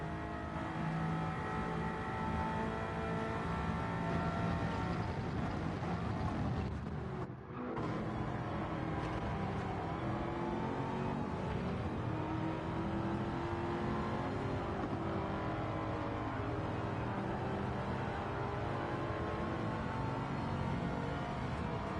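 Race cars in a GTCA street series race at Catalunya, a continuous close engine drone with revving and whining gear changes, one brief dip partway through, then steady engine roar throughout.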